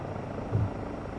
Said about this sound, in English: Just let the helicopter land itself.